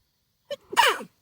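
A single sneeze: a short sharp intake followed by a burst, close and clear against silence.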